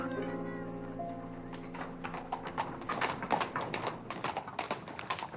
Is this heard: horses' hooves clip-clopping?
yes